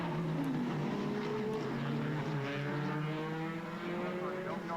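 Formula Renault race cars on a circuit at a Formula BOSS Ireland race, one bouncing along the bumpy outside line: several engines drone loudly and continuously, their pitch climbing and overlapping as the cars pass close by.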